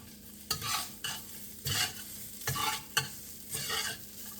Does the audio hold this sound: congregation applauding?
no